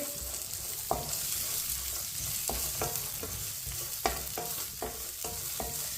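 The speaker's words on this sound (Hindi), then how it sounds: "इसे ऐसे ही चम्मच चलाते हुए भूनना है, जलने नहीं देना है।" A spoon stirs and scrapes in a pan as vermicelli and dry fruit such as chopped coconut roast for sweet milk seviyan, with scattered clicks and scrapes over a steady soft frying sizzle.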